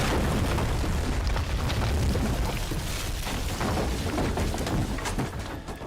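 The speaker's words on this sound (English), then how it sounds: "a cannon fires around directly at your position, destroying the gazebo immediately behind you" Cannon fire explodes across a wide open Bioshock Infinite battlefield, aimed straight at the player and smashing a gazebo behind them, heard as a sustained loud rumbling blast with debris crackle that slowly fades near the end.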